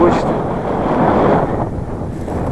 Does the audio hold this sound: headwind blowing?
yes